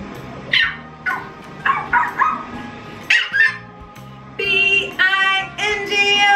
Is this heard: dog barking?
yes